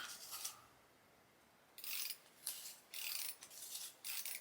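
A rainbow pencil turned in a pencil sharpener, close scraping, grinding bursts in quick rhythmic turns, one short burst, a pause, then several longer rasping strokes.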